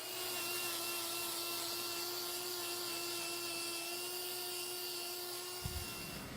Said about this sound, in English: I'm using the grinder here to remove this wall horn here because it's extremely tough to cut away with my knife